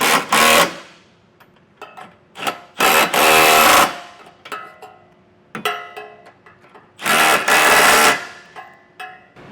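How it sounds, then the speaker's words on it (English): Power tool tightening trailer hitch hardware with a 19mm socket while installing a Curt Class III hitch on a 2025 Ford Escape: loud, close bursts of rapid rattling, each about a second long, separated by quieter clicks and handling noise. "I'll go ahead and tighten all of our hardware down with a 19mm socket."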